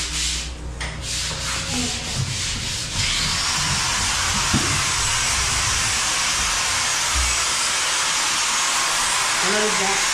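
A blower cleaning off a house roof before sealant goes on, heard as a loud, steady broadband rush of air that starts a few seconds in and keeps going without a break, with faint voices and bumps beneath it.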